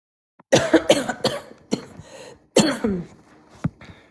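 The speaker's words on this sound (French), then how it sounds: "Je tousse depuis tantôt." Several harsh coughs in quick clusters, close and fairly loud, with short pauses between fits.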